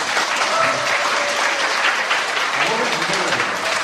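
Dense, steady applause from a church congregation at a revival retreat, honoring an elderly pastor; many hands clap together at close range for the full stretch, with no talk over it.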